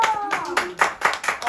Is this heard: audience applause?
yes